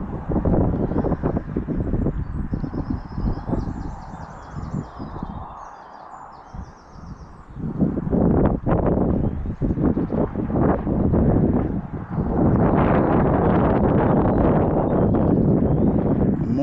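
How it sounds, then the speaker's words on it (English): Gusty wind buffets the microphone outdoors at the water's edge while fishing for zander, loud rumbling bursts rising and easing with a calmer lull in the middle, and faint birdsong above. "the wind's going to cause it a bit of an issue"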